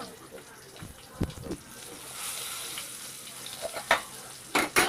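Tomatoes and salt frying in a pan give a quiet, steady sizzle, punctuated by a few sharp clinks and scrapes of a utensil near the end, with no speech.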